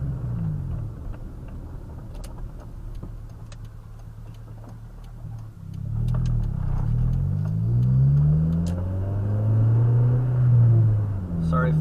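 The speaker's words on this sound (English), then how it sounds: "Sorry if the exhaust is loud." Loud, rumbly exhaust of a car driving with no muffler, a steady low drone that rises and swells as it accelerates over rough road, with someone talking throughout.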